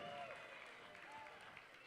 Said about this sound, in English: Let's put our hands together to the groomsmen and the bridesmaids and everybody here.